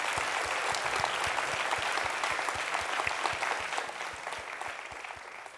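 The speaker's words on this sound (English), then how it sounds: "Another round of applause for Justin." Steady, dense applause from an audience at a forum event, a broad wash of many hands clapping that holds evenly and then thins slightly toward the end, with no voices over it.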